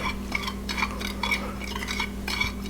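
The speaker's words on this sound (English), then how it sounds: "Now we're going to mix this up" Spoon stirring a garlic parmesan mixture for flounder in a bowl, with soft repeated scraping and clinking strokes at a steady, close rhythm against a low background hum.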